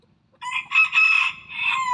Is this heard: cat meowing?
no